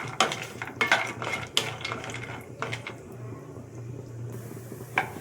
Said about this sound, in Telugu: కొంచెం ఆయిల్లో జీడిపప్పు వేగుతున్నాను